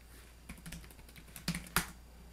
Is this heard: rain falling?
no